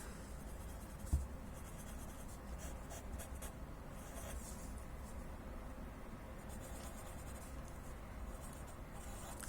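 A pen scratching out music notation on paper during a fifth-grade solfeggio lesson, with faint, quiet strokes and brief scraping bursts in a hushed room.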